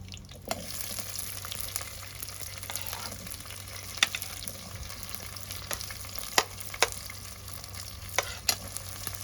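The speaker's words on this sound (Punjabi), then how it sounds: "ਸਿਮਲਾ ਮਿਰਚ ਨੂੰ ਆਪਾਂ ਝੱਸ ਲੈਂਦੇ" Capsicum sautés with cumin in a pan, a steady frying sizzle punctuated by sharp scrapes and taps of the spoon against the metal, close by with no talking.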